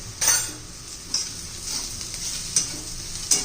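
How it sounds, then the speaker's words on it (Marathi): Sliced onion being mixed with red chilli powder, coriander powder, turmeric and gram flour for an onion-besan paratha, giving a steady scraping hiss with a few sharp spoon clinks against the bowl. "सगळं व्यवस्थित मिक्स करून घेऊया आणि एका कांद्याला दोन चमचे बेसन पीठ घातले मी"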